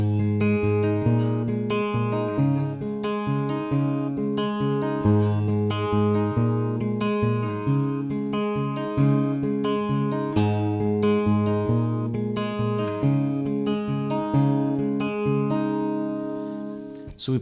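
Acoustic guitar fingerpicks a chord progression in a steady, flowing pattern of plucked notes over changing chords, played close and clean with no talking for the whole stretch.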